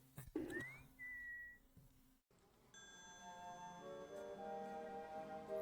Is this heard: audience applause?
no